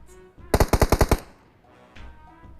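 A burst of about seven fast, evenly spaced automatic gunshots in PUBG Mobile, loud and close, followed by quieter game ambience.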